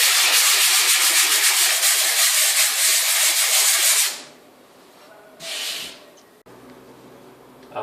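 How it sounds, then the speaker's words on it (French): Drywall joint tape on a vertical wall seam being sanded with a sanding block, a steady loud scratchy rubbing for about four seconds, then stopping, followed by quieter room noise and a brief faint rasp. "Donc je vais commencer à poncer."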